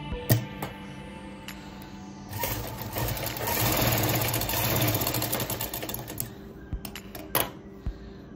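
A sewing machine runs stitching folded cloth for a fabric flower, starting with a few clicks, then whirring steadily for several seconds before slowing into scattered mechanical taps, close and without talk.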